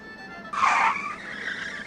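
Car brakes squeal in a single sharp, loud burst that rises abruptly and then fades to a lingering tone against a quiet background.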